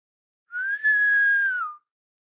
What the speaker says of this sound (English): The portress blows in a whistle.